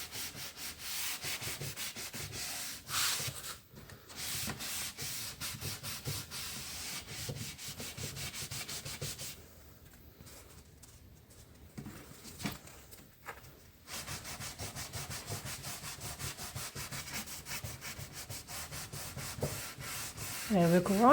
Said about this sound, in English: have this Pro Sand contour sanding sponge.